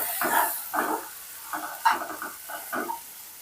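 Okra frying in a pan is stirred in about seven quick, rhythmic scraping strokes over a soft background sizzle, close up and with no voices.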